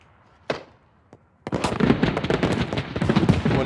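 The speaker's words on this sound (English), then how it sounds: "There's like someone shooting right there." Gunfire in the tactical shooter game Squad: two sharp isolated shots ring out, then a dense, continuous burst of rapid automatic fire and explosions, loud and close.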